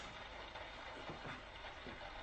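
A train rolls steadily past a signal box with a continuous broad rumble and rattle, close and loud, with no talking.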